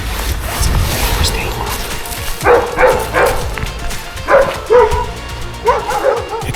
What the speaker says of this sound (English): I'm more worried about the dogs.